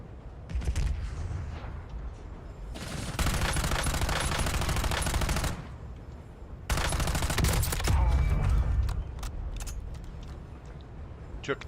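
Bursts of automatic gunfire in Call of Duty Warzone, two long sustained volleys separated by a brief pause, with scattered single shots around them and loud game ambience throughout.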